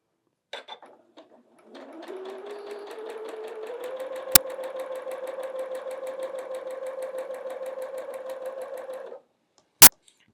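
A sewing machine stitches quilt block pieces in one steady, even run of motor whir with fast rhythmic needle clicks lasting about seven seconds, bracketed by a few soft handling taps and sharp clicks.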